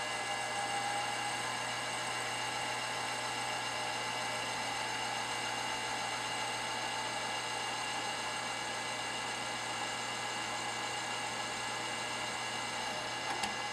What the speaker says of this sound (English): Got the quarter inch reamer in there. Slowed it down a little bit.